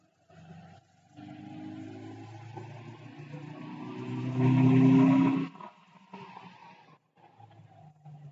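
Subaru STI engine pulling under load in fifth gear at part throttle, a low steady drone that swells louder for about a second near the middle before easing back, with a brief gap early on.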